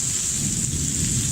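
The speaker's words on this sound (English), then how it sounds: "We seem to be having a little bit of rain." Heavy rain pours steadily at a home in Las Terrenas, Samana, Dominican Republic, a loud dense hiss with a low rumble of thunder underneath.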